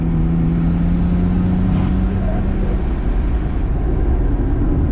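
Steady cabin drone of a 1994 Nissan Skyline GTR cruising down a road, a loud continuous engine hum with a low tone and road rumble, no voices.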